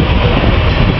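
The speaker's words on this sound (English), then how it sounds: "Come on, coal train, let's get moving." An eastbound Norfolk Southern coal train rumbles steadily nearby in Roanoke, Virginia, a dense continuous roar of wheels and rail noise with no break.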